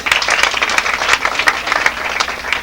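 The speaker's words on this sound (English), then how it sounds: "A round of applause for MC Bob." A short burst of audience clapping for an MC, fairly loud and close, with individual claps standing out irregularly over a thinner crowd of hands.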